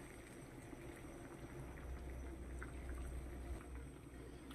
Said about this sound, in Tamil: நல்லா எப்படி கொதிக்குது பாருங்கள்